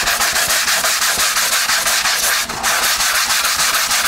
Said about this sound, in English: And just keep sanding.